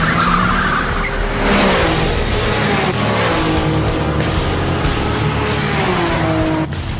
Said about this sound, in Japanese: この Z の音をかき消して、 ブラックバードの音が飛び込んでくる。